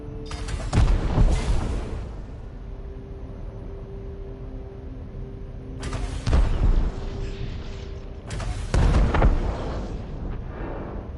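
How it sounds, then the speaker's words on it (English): Three loud explosions in the Elite Dangerous space game as canisters are destroyed, each a sharp broadband boom with a rumbling tail, at about one, six and nine seconds, over a steady low engine hum. "I got booms, so I'm assuming the booms mean that I was successful in destroying these things"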